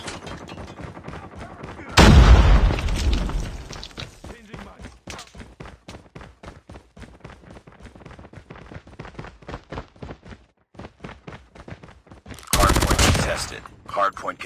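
Gunfire and a grenade in Call of Duty Mobile on a seaside hardpoint map: a sudden loud blast opens, followed by a long train of sharp rapid rifle shots and a second heavy explosion near the end.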